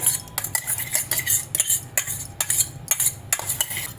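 A spoon stirring ground betel leaf paste into milk for paan thandai, a rapid series of bright metallic clinks and scrapes against the vessel, close and rhythmic, repeating about every half second without any talk.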